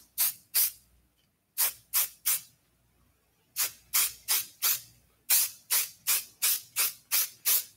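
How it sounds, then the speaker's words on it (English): Max Control hairspray sprayed over hair pulled back into a ponytail, in a run of short, sharp hissing bursts with brief pauses between groups, close and distinct with no talking. "I'm going to come in a bit of Max Control hairspray over the top."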